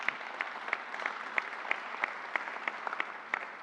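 An audience at a New York COVID vaccination briefing claps for the health commissioner, a short, fairly sparse round of applause with distinct individual claps, moderately near and not very loud.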